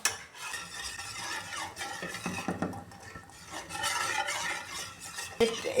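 A spoon scrapes and stirs rice batter as it thickens in a pan over a medium gas flame, giving irregular close scraping and knocking sounds at a fairly low level, with a sharper clink near the end.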